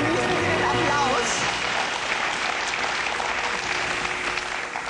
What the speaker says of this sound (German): genießen Sie den Applaus